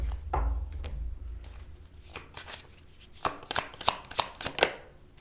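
Tarot cards being shuffled by hand, a stiff deck that is hard to shuffle: a low rustle at first, then a run of sharp, close riffling bursts in quick succession near the end, with no talking.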